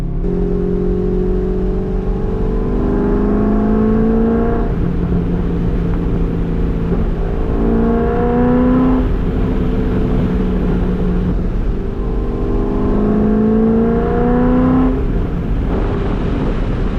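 Chevrolet Corvette C5 V8 engine pulling hard on a road drive, with a steady loud drone rising through repeated gear pulls and brief dips at each shift, heard from inside the car.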